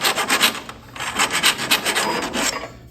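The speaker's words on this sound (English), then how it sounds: "This is a nice flat, sharp metal file." A sharp flat metal file rasps across the ends of steel pipes to clear inside burrs, giving a steady run of close, rhythmic scraping strokes with no talk.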